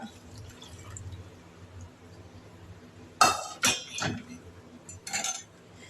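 Homemade curd made from packet milk is tipped and scraped into another vessel in a kitchen, giving a few soft wet plops and clinks of metal and glass after a quiet stretch.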